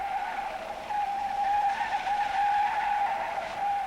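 Tires of a Mercedes-Benz W108 250S sedan squeal steadily through a cornering test on a circular course, a sustained high-pitched screech over engine and road noise with no talking.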